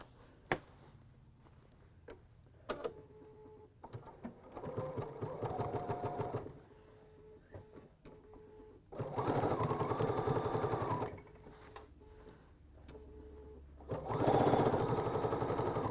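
A sewing machine attaches a scalloped ruffle onto a pillow in three separate runs of steady mechanical whirring, each a couple of seconds long, with quiet pauses and small clicks between them.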